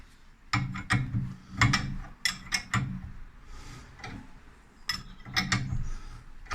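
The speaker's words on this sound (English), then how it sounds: "So I've started tightening them, and basically just give it a couple of half turns that way." A ratchet tightens the strut top bolts on a Renault Trafic, making close, sharp bursts of rapid clicking in a few short runs separated by brief pauses.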